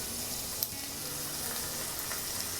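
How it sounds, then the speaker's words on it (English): Steady frying sizzle as olives and canned tomato sauce go into drained ground beef for a pastelón, with a few soft clinks of a spoon or can rising briefly over the continuous hiss. "I'm going to go ahead and add my olives and have a can of the tomato sauce."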